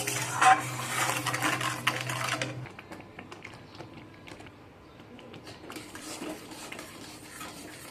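A spoon scrapes and clinks as it stirs a thin spiced mango and sugar mixture in a pan over a gas flame, with busy stirring at first followed by lighter, scattered taps and scrapes.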